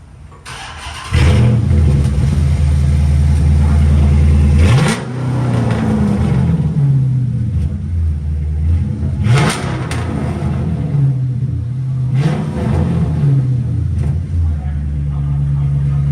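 A straight-piped Dodge Charger RT starts up and settles into a loud, close, deep rumble, blipped with several sharp revs that rise and fall, with voices now and then.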